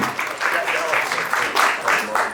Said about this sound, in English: You can clap your hands for yourself.